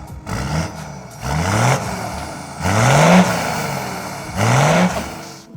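A Toyota 1HD-FTE diesel in a 60 Series is revved on a dyno, four loud close rising pulls with dips between, each climbing in pitch then dropping off.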